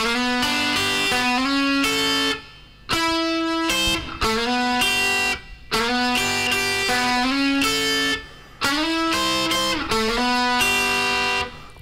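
Electric guitar plays a song's riff slowly, with distorted, sustained notes and bends in phrases separated by short pauses, loud and alone without talk.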